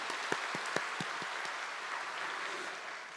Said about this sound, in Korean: 하나님께 감사와 영광의 박수를 올려드립니다